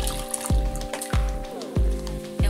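Warm water in a bowl with baby soap mixed in, sloshing and dripping in several distinct splashes at a slow, uneven rhythm, close and fairly quiet, no voices.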